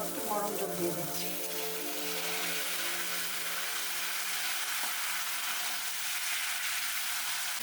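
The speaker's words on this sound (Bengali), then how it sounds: "এখন আমি এর মধ্যে গরম জল দিয়ে দিচ্ছি।" Hot water poured into fried spice masala in a pan for a Bengali mango fish curry, giving a loud, steady hiss and sizzle that starts with a brief sharper burst and continues evenly throughout.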